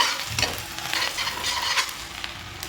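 Crushed garlic drops into hot oil for a dry chilli chicken dish and fries with a loud, continuous crackling sizzle, close to the pan and unbroken by speech.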